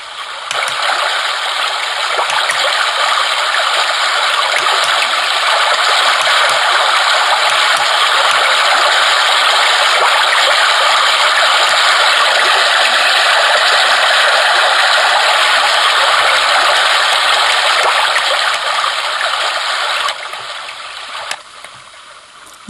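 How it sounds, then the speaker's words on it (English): Trickling brook setting on a Homedics Sound Spa Rejuvenate white noise machine, a steady broadband rush of running water that plays continuously and evenly before cutting off near the end. "This is the brook, which I quite like. Nice trickling stream."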